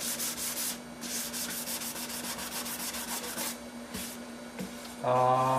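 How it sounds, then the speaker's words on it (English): Fine-grit sandpaper rubs along the edge of a Target EM6000 guitar body finish in steady, close strokes, a dry scratchy rasp that keeps an even rhythm before a short change at the end. "You don't really have to sand the inside edge of it."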